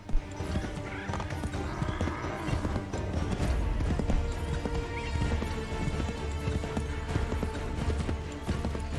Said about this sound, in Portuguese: Ô, cavalo.